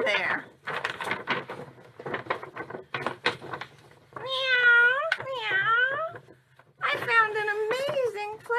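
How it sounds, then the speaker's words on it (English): A cat meows several times in drawn-out, rising cries, mixed with a person's voice and some light tapping and shuffling. "Meow! Meow!"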